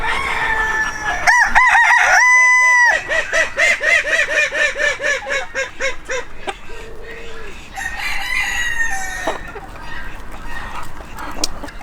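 A chocolate mottled Wyandotte bantam rooster crows loudly and close by, with other chickens clucking and cackling around it, the crow ringing out clearly before quieter squawks and clucks follow.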